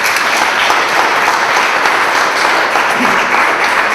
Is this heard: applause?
yes